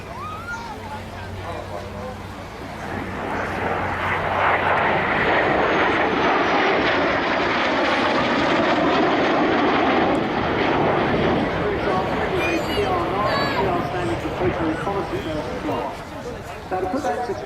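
An English Electric Canberra jet roars past at an air display at Dunsfold, the engine noise swelling loud in the middle and slowly fading, with a commentator talking over it.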